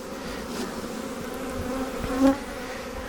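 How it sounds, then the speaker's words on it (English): Honeybees in and around a hive make a steady, close drone with one brief louder buzz as a bee passes near, over a constant hum of the swarm. "It's already got a lot of bees in it"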